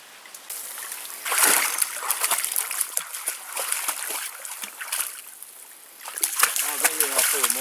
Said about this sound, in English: Been dipping water right out of the stream, take it up to the fire and boil it.